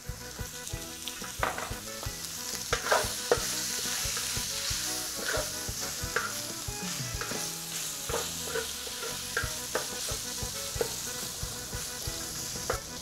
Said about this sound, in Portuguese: E ela não vai selar da maneira que ela está selando aqui.